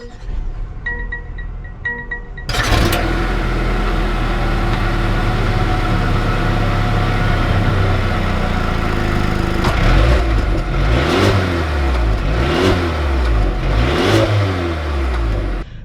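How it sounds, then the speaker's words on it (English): A 2020 Mercedes-Benz A220 engine cranks and fires after a brief quiet moment, then settles into a steady idle and revs loudly with rising and falling pitch as it pulls away, close and clear. "Let's take this A220 out and see how it drives"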